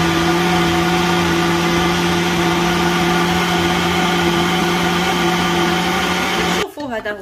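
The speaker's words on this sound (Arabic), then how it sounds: "شوفوا كنطحن دابا القزبر والمعدنوس ومع الطماطم اللي لحت" An electric blender grinds coriander, parsley and tomatoes in a steady, loud, unbroken whir that runs for several seconds, then abruptly cuts off near the end.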